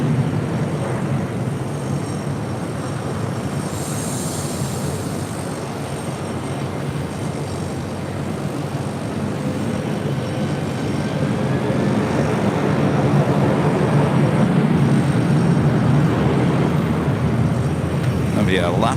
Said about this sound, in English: Seaman Air Cargo 777 freighter coming in from Taipei, arriving at 25 left